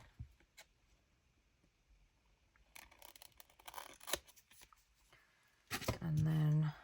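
Scissors cutting acetate sheets for a junk journal, with soft, close snips and rustles, quiet at first and growing busier. A loud steady hum closes the scene.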